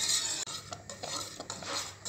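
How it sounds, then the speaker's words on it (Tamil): A spoon scrapes and clinks against a pan in steady stirring strokes through thickening foxtail millet milk pudding, close and fairly loud, with no voices. "இதே நல்லா கலந்து விட்டுக்குவோம்."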